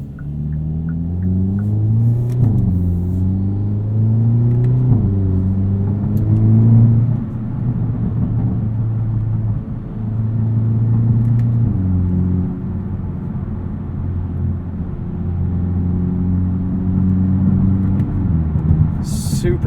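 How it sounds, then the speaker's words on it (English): A 2022 Hyundai Elantra N four-cylinder engine drives under load, its loud, rising drone climbing through several gear changes with brief dips between shifts, heard from inside the cabin. "I do think this is one of just the best sounding 4-cylinders on the market."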